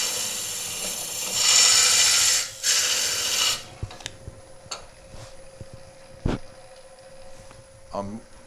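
Woodcut ProForme hollowing tool plunging into a spinning wooden piece on a lathe, a loud rasping cut lasting about three seconds, then quieter scraping ticks and taps.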